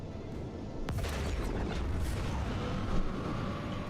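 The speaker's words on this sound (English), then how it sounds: "we might take a torpedo hit right here" In the Warhammer 40k: Rogue Trader video game, a torpedo strikes a ship with a sudden deep boom. A heavy rumbling roar follows and holds for several seconds. The impact is loud and close, with no speech.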